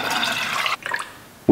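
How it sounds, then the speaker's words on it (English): Rendered lard from a crockpot pours into a canning jar through a canning funnel: a brief, close liquid glug and splash for under a second, then a faint trickle and a soft knock at the end. "I'm just gonna be using my canning jar funnel to hopefully keep from making a mess when pouring this in"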